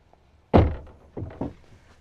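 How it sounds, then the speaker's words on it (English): A door thunks shut at a watermelon farm plot with a battery and inverter setup, one sharp solid impact followed by a couple of softer knocks as it settles, close and loud with no talking. "The door's shutting on me."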